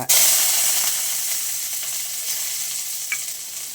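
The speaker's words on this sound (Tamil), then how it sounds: "கொஞ்சம் கடுகு பொரிஞ்சதும் வெங்காயம், கருவேப்பிலை தழை," Onion and curry leaves hit hot oil with popping mustard seeds for beetroot rice, a loud burst of sizzling that settles into a steady close hiss with a brief stir click near the end.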